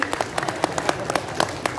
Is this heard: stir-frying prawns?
no